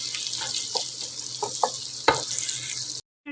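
Sliced onions frying in butter in a pan, a steady close sizzle with a few soft pops and a brief clatter, ending abruptly in silence.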